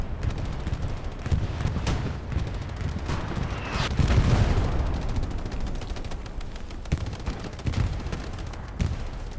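A bombing run in the World War II shooter game Hell Let Loose: dense, continuous gunfire and rumbling blasts, with a heavier explosive swell near the middle, loud and sustained throughout with no talking.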